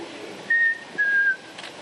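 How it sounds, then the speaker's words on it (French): A zookeeper whistles to call a lion in its enclosure, two short clear pitched whistle blasts in quick succession over faint outdoor background. "Si son soigneur le siffle comme on appellerait un animal de compagnie"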